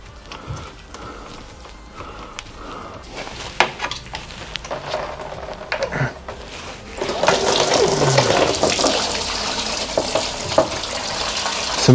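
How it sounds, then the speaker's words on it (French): Scattered clanks and knocks, then a steady rush of plain water pouring out of a Peugeot/Citroën TU engine's radiator and splashing continuously, fairly close, with occasional metallic taps. "Donc ici, on va vider son radiateur."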